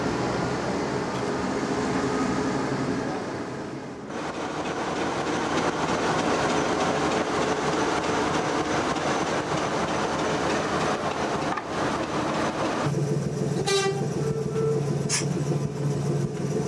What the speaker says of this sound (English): Diesel shunters head passenger trains.